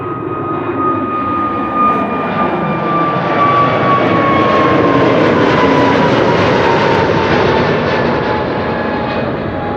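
A Pegasus narrow-body jet departing roars loud and steady throughout, a broad engine rumble with a whining tone that slowly drops in pitch as it passes.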